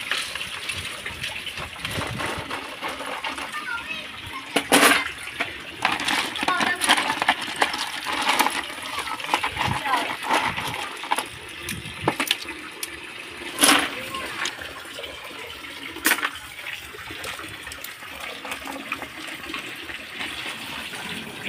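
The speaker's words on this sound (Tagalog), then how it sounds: "Lagyan sa timba at ating huhugasan para matanggal yung mga dumi na nakakasipsip sa kanya." Stones washed by hand in a bucket of water, with close splashing, sloshing and clacking of the stones against each other in irregular bursts throughout.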